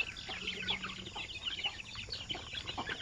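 Hens and young chicks in an outdoor range area give soft, scattered clucks and high cheeping chirps. The sounds come close together and stay fairly faint throughout.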